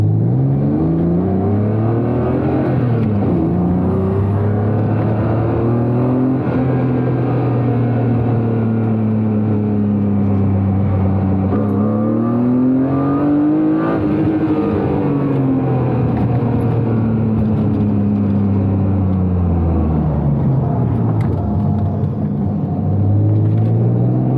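A built BMW E36 M3 race car accelerates hard through several gears, a loud, close engine roar rising and dropping with each shift over a continuous rumble, heard from inside the cabin.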